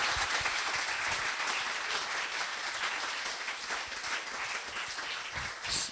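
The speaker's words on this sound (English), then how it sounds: "Let's have one final round of applause for Team Alpha." Audience applause for Team Alpha at a Northcoders graduation, a steady room-filling clatter of many hands held for about six seconds at moderate level, with no talk over it.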